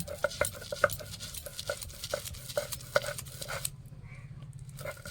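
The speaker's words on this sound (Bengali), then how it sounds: "এইভাবে সব ডাল আমি বেটে নেব" Soaked chana dal ground into paste by hand, with a steady run of rhythmic scraping and tapping strokes, close and moderately loud, ending in a quieter stretch.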